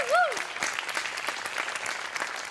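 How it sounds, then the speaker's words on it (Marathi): Applause from a comedy show audience fills the space with steady, moderately loud clapping, while a brief rising tone sounds at the start. "गोस्वामींसाठी एकदा टाळ्या वाजवा"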